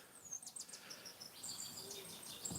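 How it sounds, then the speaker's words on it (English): Small birds chirping and singing outdoors, probably from a nearby tree, with several thin, high calls scattered through a quiet, faint background. "I'm listening to birds. Probably from that tree over there."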